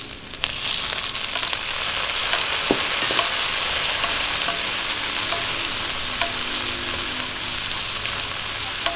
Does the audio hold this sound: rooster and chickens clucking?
no